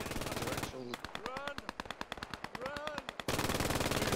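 Video game battle with units taking fire, rapid bursts of machine-gun fire cracking in quick regular succession, loud and close, between stretches of dense roaring combat noise.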